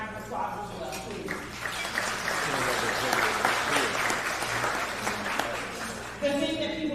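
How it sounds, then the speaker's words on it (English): A luncheon crowd at a Fair Housing Month event gives a round of applause, the clapping swelling into a full, sustained patter between stretches of amplified speech at the start and end. "let's give them a round of applause as well"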